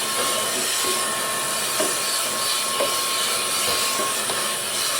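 EPROEON handheld vacuum running on max mode, a loud continuous broadband hiss and motor whine with a steady tone, sucking up dust and dirt, with faint intermittent clicks and no talking.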